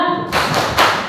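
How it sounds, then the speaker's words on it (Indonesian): A group performs a rhythmic Indonesian 'tepuk semangat' spirit clap during a teachers' learning session, with a few loud, sharp clap bursts after a brief tonal hum. "Tepuk semangat."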